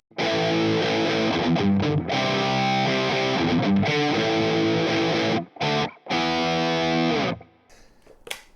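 Electric guitar played through an Orange Super Crush 100 amp with a crunchy, distorted tone and slight reverb, strummed chords ringing out, then brief stops and a final fading note.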